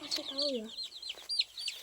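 Farm chickens cluck nearby with repeated soft, varied calls over quiet surroundings.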